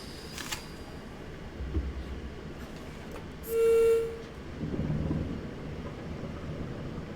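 A locomotive shunting steel wagons in reverse at Lackenby Steelworks in Train Sim World, with a low rumble throughout, a brief tonal whine or horn-like note in the middle and a swell of rolling noise afterward.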